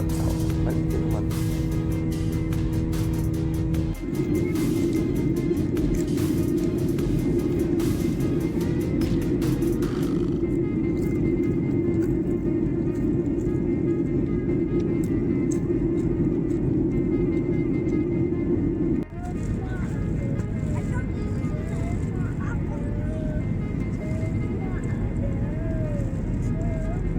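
Airplane cabin noise in flight just after takeoff from Ahmad Yani airport in Semarang bound for Pontianak: a steady, dense engine drone that shifts slightly in pitch partway through, with no talking.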